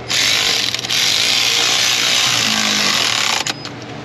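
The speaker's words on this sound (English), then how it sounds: "Switch out our ratchet." A ratchet works on bolts of a Ford F-150 5.4 three-valve engine, a steady close, loud mechanical buzz lasting several seconds before stopping abruptly, no voices.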